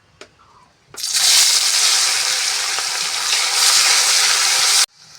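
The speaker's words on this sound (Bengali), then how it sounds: "পেঁয়াজ ভাজা হয়ে গেছে" Chopped onion hits hot oil in a pan after fish frying in a village kitchen, bursting into a loud, sudden sizzle that holds steady for about four seconds, then cuts off abruptly.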